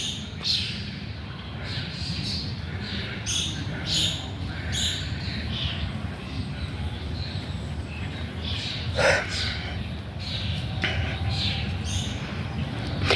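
Birds singing in a park on a morning walk, scattered chirps and tweets repeating over a continuous outdoor rumble, moderately distant and fairly faint.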